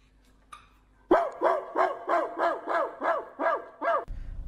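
A dog barks in reaction to someone barking at it through a tube, about eight loud, evenly spaced barks close by after a brief quiet lead-in.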